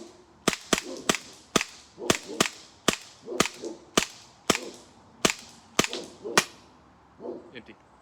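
A CO2 cartridge air gun fires about a dozen sharp, loud cracking shots in quick irregular succession, each one snapping out close by with a short tail, and then the firing stops.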